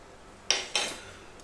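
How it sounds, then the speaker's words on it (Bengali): A spoon stirs haleem in a cooking pot, making two short, close metallic scrapes against the pot in quick succession, then quiet, with no one talking. "এবার বন্ধুরা এটাকে ভালোভাবে নাড়তে থাকতে হবে যাতে তলায় লেগে না যায়"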